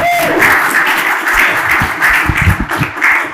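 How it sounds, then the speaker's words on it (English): An audience applauds at the end of a talk, with steady, dense clapping from many hands that fills the room at close range and carries on for several seconds. "All right, y'all clap it up for Chris,"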